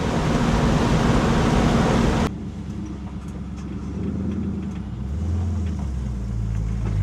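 A 1973 Pontiac LeMans Sport coupe cruising at about 70 mph gives a steady, close road rumble and engine drone with tire noise. A louder wind-buffeted burst opens the first two seconds, and the drone then settles into an even, continuous hum.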